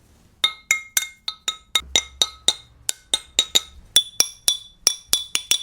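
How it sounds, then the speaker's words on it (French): A long run of quick, bright taps on a cement tile, about twenty in an uneven rhythm, each a crisp ringing clink with a short decay. "et ça, c'est le son d'un carreau de ciment"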